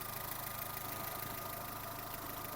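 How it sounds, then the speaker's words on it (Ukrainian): A 2008 Skoda Fabia 1.4 MPI petrol engine with 103,000 km idles steadily and smoothly, a quiet, even mechanical hum with no change in pace. "Автомобіль працює без зауважень"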